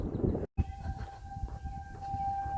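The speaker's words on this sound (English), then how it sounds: "but the sirens are going off." Distant wailing civil defense siren during a weekly test holds a steady tone over low outdoor rumble and wind on a trail in Michigan, with a brief dropout near the start.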